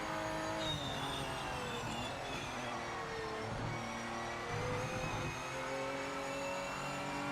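Race car engines from the Project Motor Racing video game roar continuously, with several cars revving and shifting through gears and some tyre squeal, loud and alone with no talk.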